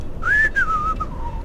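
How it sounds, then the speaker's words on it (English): A person whistles a short, clear descending tune at close range, a single smooth phrase lasting about a second over low background noise. "Just walk away and whistle."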